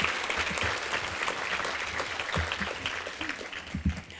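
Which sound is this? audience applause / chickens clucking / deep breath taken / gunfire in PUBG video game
audience applause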